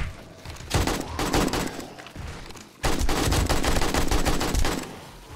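Rapid bursts of automatic gunfire from a weapon in 7 Days to Die, during a horde night in a snow biome, loud and dense, with a short lull before a second sustained volley.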